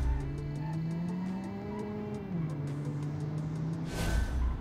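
Minivan with an inline four engine driving, a sustained engine drone with a pitch that climbs, dips at a gear change, then holds, plus a brief rushing burst near the end.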